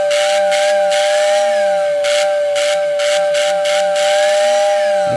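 A serviced postwar toy train whistle motor spins fast, giving a steady high whine with a sustained tone and pulsing hiss bursts that swell and fade rhythmically, loud and close, with no talking.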